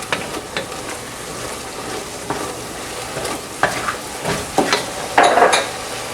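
Cauliflower and mushrooms sauteing in a pot, a soft sizzle under repeated scraping and knocking of a spoon stirring against the pot, close up with no talking.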